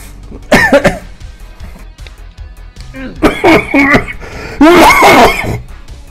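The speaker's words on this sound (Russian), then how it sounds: "Извините за кашель, конечно." Three bursts of harsh coughing, close and loud, spaced a second or two apart, from a person playing the climbing game Getting Over It.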